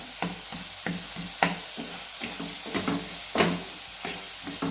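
Masala and vegetables fry in a pan while a spoon stirs them, giving a steady sizzle broken by repeated scraping strokes in an uneven rhythm, close and fairly loud with no talking.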